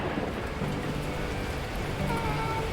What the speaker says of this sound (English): the heavens opened up, unleashing torrential rain